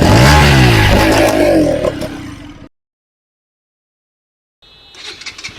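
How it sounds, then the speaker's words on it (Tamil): A 2024 Bajaj Pulsar NS200 motorcycle engine revs up loudly close by, its pitch climbing and falling for a couple of seconds before cutting out to silence, then faint mechanical clatter returns. "இப்போ வண்டி வந்து ஸ்டார்ட் பண்ணி எப்படி இருக்குன்றதை பார்க்கலாம்."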